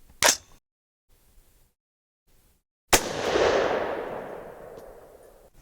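Two suppressed gunshots from a firearm fitted with a SilencerCo Omega 36M silencer: a sharp, short report, then after a pause a second louder crack with a long, fading wash of ringing echo, with no talking.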